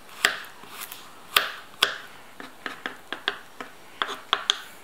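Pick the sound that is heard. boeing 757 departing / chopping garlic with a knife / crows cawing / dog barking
chopping garlic with a knife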